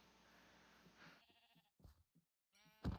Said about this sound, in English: I found some poor sheep.